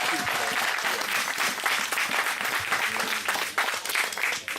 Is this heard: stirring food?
no